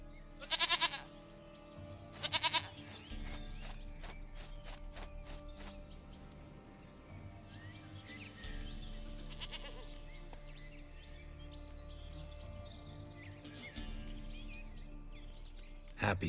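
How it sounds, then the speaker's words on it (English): A goat bleats twice in quick loud bursts near the start in a village in The Witcher 3: Wild Hunt, then a quieter mix of low ambient rumble and faint farmyard sounds follows, ending with another brief bleat. "Goat of mine, dearest, sweetest goat"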